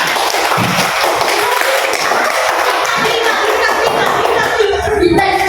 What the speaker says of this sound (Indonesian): Sekarang Peter, kasih tepuk tangan dulu ke temannya.